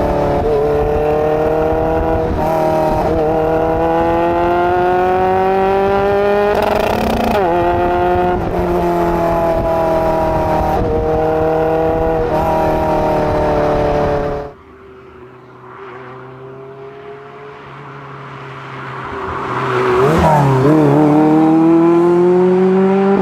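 A Lotus Elise Sport 160 drives with a loud, steady engine note that rises and falls through gear changes. It briefly drops to a quieter rumble, then revs hard again.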